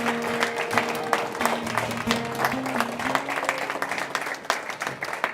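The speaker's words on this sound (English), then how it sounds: "Let's give our graduates another round of applause." Audience at a 2016 JC/LISD Academy graduation ceremony gives the graduates a round of applause, a full hall of steady clapping with crowd murmur and sustained tones underneath, continuing evenly.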